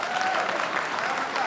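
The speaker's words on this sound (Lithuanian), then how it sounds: "Ekspertai ploja" A group of experts applauds with steady, fairly loud clapping throughout, and a faint voice is heard beneath it.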